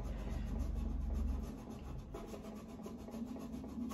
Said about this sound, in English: instead of using paint, I'm using my wet cloth, and where the stencil is, I'm actually rubbing away the paint